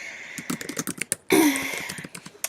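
Someone types a message on a computer keyboard, a quick run of close, crisp key clicks in an uneven rhythm, broken by a brief louder burst of sound in the middle before the tapping resumes.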